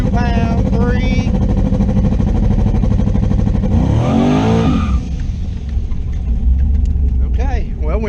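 A car engine is held in first gear on the brake and revved hard to build turbo boost, a loud, close, sustained roar that climbs in pitch and then falls back.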